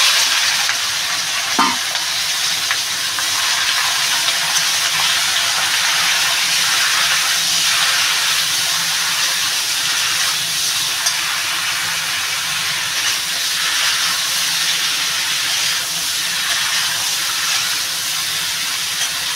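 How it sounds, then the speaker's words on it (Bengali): Sliced bottle gourd with slit green chillies tipped into a hot pan, setting off a loud, steady sizzle and hiss that carries on unbroken with no voices. "আমি এবার লাউটা ঢেলে দেবো।"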